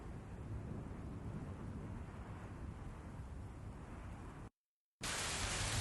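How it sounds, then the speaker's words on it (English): Distant thunder rolls as a broad, steady low rumble under a rain-like hiss, breaking off in a brief dead silence before the stormy roar returns just as strong. "And you start to hear the rolling of distant thunder."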